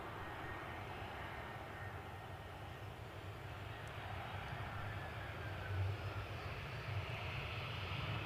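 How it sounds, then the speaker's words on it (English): An EasyJet Airbus A320 jet airliner from Bristol rumbles at an airport, a steady, fairly distant low engine roar that swells slightly toward the end. "So EasyJet from Bristol, this A320."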